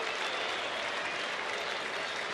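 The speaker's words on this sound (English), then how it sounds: "A lot of applause, a lot of U's" A baseball stadium crowd keeps up steady, dense applause for a couple of seconds, broad and even with no breaks, heard from within the stands.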